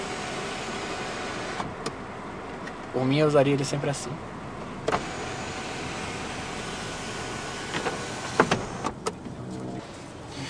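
A tenth-generation Honda Civic's electric sunroof motor whirs briefly for about a second inside the cabin, amid quiet interior ambience, with someone speaking nearby and a few soft clicks afterward.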